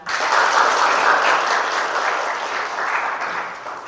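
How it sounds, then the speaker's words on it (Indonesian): A classroom of students at UIN Walisongo Semarang applauds a classmate who has just answered, dense steady clapping filling the room for about four seconds, slowly thinning toward the end. "kita beri tepuk tangan untuk teman kita"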